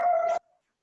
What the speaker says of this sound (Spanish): Se escuchó un perro.